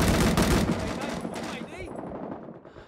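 Machine gun fire in the video game Rising Storm 2: Vietnam: loud, rapid bursts crowd the first second, then the shots thin out and trail off into fainter distant gunfire.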